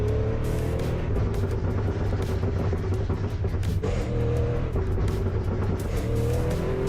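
A car engine in the Assetto Corsa driving game, a Yamaha-style R3 driven through canyon roads, drones and revs continuously with a loud, steady rumble and slight pitch shifts, no talk over it.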